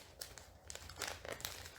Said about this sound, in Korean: 지퍼백을 열고